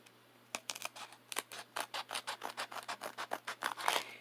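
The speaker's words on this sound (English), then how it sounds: "take my scissors" Scissors snip through paper in a quick, steady series of close, crisp cuts, with no talking.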